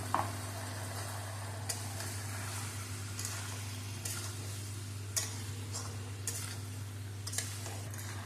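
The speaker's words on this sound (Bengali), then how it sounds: "আমি মশলাটা দিয়ে আরো 5 মিনিট ভালো করে কষিয়ে নেব।" Spice paste made with ground melon seeds, almonds and tomato sautés in a pan, giving a soft steady sizzle with occasional scraping stirs and light clicks, close and moderately quiet with no talking.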